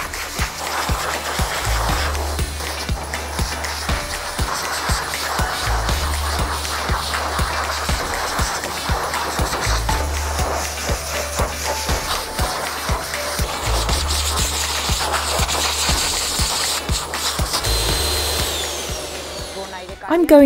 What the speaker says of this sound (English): I'm going to use hot air to shape, fix, and make volume on the leg zones